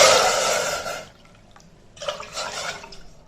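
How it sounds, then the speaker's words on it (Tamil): Water is poured from a cup into a pan for millet koozh porridge, a splashing gush for about a second, a short pause, then a second, softer pour. "அதே கப்பில் நம்ம ஒரு 3 கப்பு தண்ணி ஊற்றிக்கிடுவோம்."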